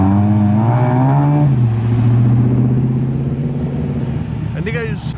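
A Mazda RX-7 arriving at a car show, its engine humming loudly and rising in pitch as it rolls past nearby, with someone talking over it throughout.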